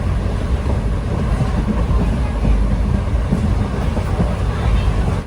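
Silambu Express sleeper train running on the line toward Rajapalayam station in Virudhunagar district, a steady loud rumble of carriage noise filling the whole stretch with no clear wheel beats.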